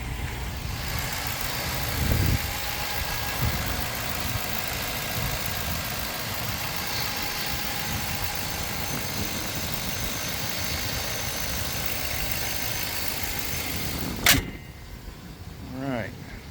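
A 2005 Chevy Avalanche engine idles steadily with an even mid-pitched hum throughout, and a brief sharp click sounds near the end.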